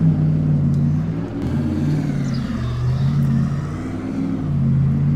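A car engine in a video game, Farming Simulator 25, idles and revs with a throaty, rumbling drone, pitch rising and falling in waves, loud and steady with no talking.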